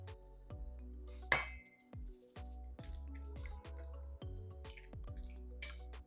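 Chicken eggs cracked into a pumpkin mixture for a pumpkin cake: one sharp crack stands out, followed by soft wet squishing and small clinks under steady background music.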